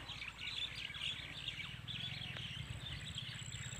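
Many birds chirping and tweeting at once near a sweet potato field, a busy, continuous chorus over a low steady rumble.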